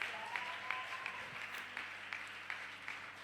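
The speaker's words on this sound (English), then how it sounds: "We may clap hands for Jesus." A church congregation claps hands in a steady rhythm, fairly faint and distant, with soft room noise between the beats.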